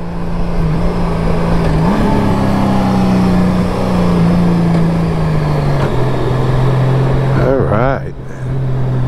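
A motorbike engine runs loud and close with a steady droning note that rises and dips as it revs, then briefly drops away near the end.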